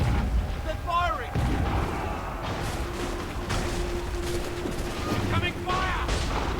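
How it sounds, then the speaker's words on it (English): Gunfire and artillery-like booms in the Assassin's Creed III video game, a steady roar of blasts and rumble with scattered cracks, while players talk over it. "They're firing!"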